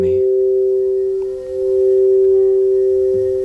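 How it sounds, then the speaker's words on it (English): Harmonic singing bowls resonate in a pure, sustained tone that rings steadily and loud, with a gentle swell in the middle and no voices over it. "I can just rest with the sound of the bowls"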